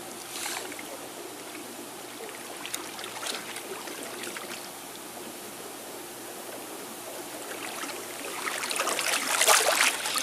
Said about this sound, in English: I'm gonna move around the hot tub a bit more.